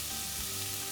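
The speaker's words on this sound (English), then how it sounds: "Just saute those just for a couple of minutes." Diced potato and vegetables sautéing in a pan, a bright steady sizzle at moderate loudness, constant and unbroken with no voices.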